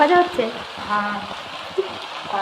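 Leafy greens fry in a pan over a wood-fired clay stove, giving a steady soft sizzle, while a voice talks faintly in the background.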